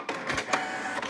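A Canon PIXMA TS3122 inkjet printer with an ink system installed runs through a print job, giving a close, steady mechanical whir with a few rhythmic feed pulses and no talk.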